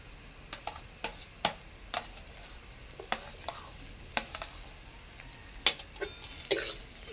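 Crushed garlic frying in a pan gives a low, steady sizzle under irregular sharp clicks and scrapes from stirring, close and fairly quiet, with no one talking.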